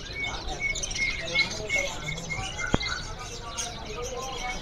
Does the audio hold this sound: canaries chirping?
yes